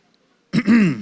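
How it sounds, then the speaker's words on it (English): A single loud, close throat clearing at a beauty pageant grand finale in a hotel hall, a short rasp followed by a longer gravelly rumble, heard alone after a moment of silence. "I clear my throat."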